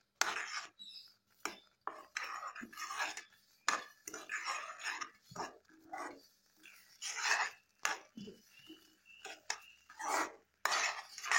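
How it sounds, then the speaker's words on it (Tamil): Semolina for rava laddu stirred continuously in a pan so it does not form lumps: soft, irregular scraping and rubbing strokes of a spoon against metal, coming in short bursts with brief pauses, fairly quiet. "இப்போ நீங்க ரவையை சேர்க்கும் போதே கிளறிக்கிட்டே இருக்கணும், இல்லைன்னா கட்டி விழுந்துரும்"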